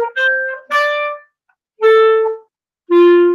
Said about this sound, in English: so clarinet and trumpet are going to sound like this for 52.